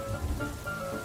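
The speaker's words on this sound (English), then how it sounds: "Peppa looked out the window and saw the rain, water pattering on the roof." Rain pattering on a roof in a cartoon scene, a soft, steady patter of drops heard alone at low volume for about a second.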